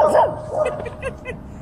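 A dog gives a few short, high yips and whimpering barks up close, with a person's voice mixed in among the brief sounds.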